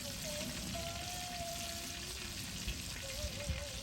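Chicken cutlets fry in a skillet over a rocket stove outdoors, a constant close crackling sizzle with a faint high whistle running through it.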